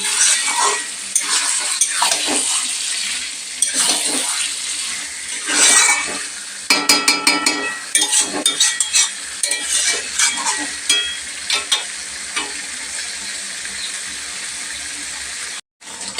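Mutton and potato curry sautéed in oil in a village kitchen: a steady sizzle runs throughout, with repeated spatula scrapes and clinks against the pan in uneven bursts, loud and close, with no one talking.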